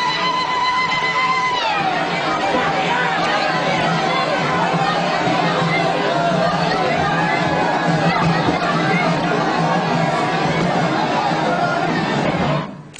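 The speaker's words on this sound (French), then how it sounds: "le JT montre en longueur la foule qui l'acclame tout au long du cortège" Dense crowd chatter and cheering from people lining a presidential procession in Bizerte on a national holiday, a steady continuous roar of many voices sustained throughout.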